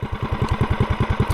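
A small custom minibike engine fitted with a GoPowerSports front end idles low at about 1140 RPM. It gives a steady, close, even put-put pulse with a light clatter on top, and no voices.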